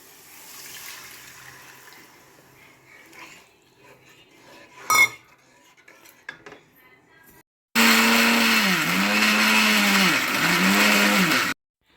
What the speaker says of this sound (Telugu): మనం ముందుగా వేయించిన మసాలాల దినుసులన్నింటినీ ఇలా మిక్సీ పెట్టి మెత్తగా పౌడర్లాగా చేసుకుందాం.